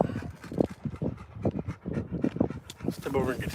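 A dog pants in quick, rough breaths close by, with a short whimper, while a person talks over it throughout.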